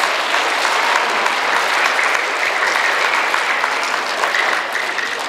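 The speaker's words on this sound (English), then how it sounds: "So let's give our fourth grade students with all A honor roll a round of applause" A school awards assembly audience gives sustained, even applause for fourth grade all-A honor roll students, a dense wash of many hands clapping continuously for about five seconds with no talk over it.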